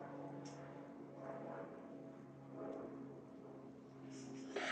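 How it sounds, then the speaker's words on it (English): A propeller airplane passes overhead with a steady low drone that swells slightly and holds through the whole stretch, fairly faint and distant, heard alone without talk. "Hold on, damn airplane."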